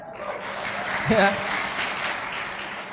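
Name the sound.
audience applause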